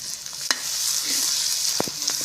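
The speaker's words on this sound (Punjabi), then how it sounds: "ਟਮਾਟਰ ਅਦਰਕ ਹਰੀ ਮਿਰਚ ਇਹ ਆਪਾਂ ਪਾ ਦੋ ਇਹਨਾਂ ਨੂੰ ਭੁੰਨ ਲਓ" Tomato, ginger and green chili frying in a pan, a bright steady sizzle close by with a few quick spatula knocks.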